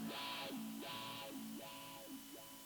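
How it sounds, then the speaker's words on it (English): An electric guitar runs through an amplifier's built-in wah effect. Its tone sweeps in a vowel-like cycle four times in a row at moderate volume, with no voices. "it'd be just a consistent wah sound that you can't really change."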